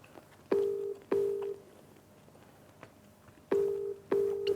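A phone number being dialed, with four distinct touch-tone beeps in two pairs separated by a quiet gap, each tone loud and steady, with no talking.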